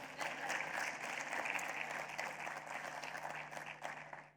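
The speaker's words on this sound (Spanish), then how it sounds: "Paula de Francisco Jiménez, un aplauso, por favor." Sustained audience applause welcoming a speaker at a sports nutrition and performance conference, a dense, steady wash of clapping heard from within the hall and holding evenly throughout.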